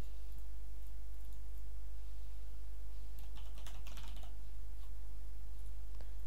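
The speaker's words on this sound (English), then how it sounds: "Screwed up on my typing" Keyboard typing during a live stream, a burst of quick clicking keystrokes in the middle against a steady low electrical hum, with quieter scattered taps elsewhere.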